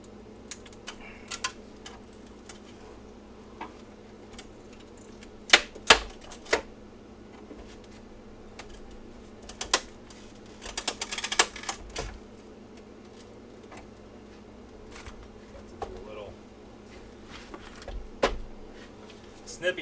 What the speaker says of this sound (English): just pretty much sticking the screwdriver in the crack and breaking it open whenever it melted back together